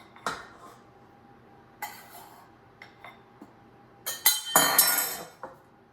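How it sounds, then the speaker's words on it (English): Flour scooped into a mixing bowl for sourdough discard focaccia: a series of sharp clinks and scrapes of the scoop against the bowl, sparse at first and then bunching into a louder, denser flurry near the end. "I'm gonna scoop my flour in"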